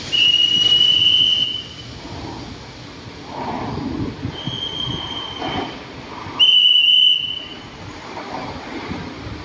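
Shrill departure whistle blasts from station staff sound several times, two long ones and a shorter one, over the low rumble of a Red Line train at Taling Chan station, Thailand.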